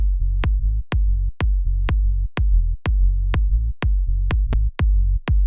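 Kick drum and sub bass from a Brazilian bass track with the Maximus multiband compressor switched off: sharp kick hits in a driving, slightly syncopated pattern over a booming low sub that dips between hits, loud and alone.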